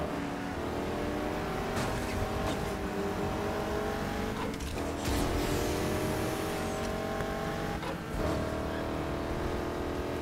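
Several cars race together in Need for Speed Heat, among them a Honda Civic, a Golf GTI and an Acura, engines droning and revving steadily with shifting pitch as they pass, continuous and loud without talk.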